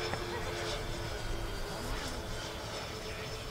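An FMS F7F Tigercat 1700mm twin-engine RC model airplane comes in to land, its steady engine drone and wind rushing evenly and fairly loud throughout, with no break or change in level.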